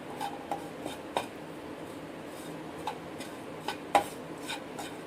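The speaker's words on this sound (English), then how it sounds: "now I will mix it well" Stuffing is mixed with sauce in a bowl, with faint, sporadic clicks and scrapes of a utensil against the bowl over low background hiss.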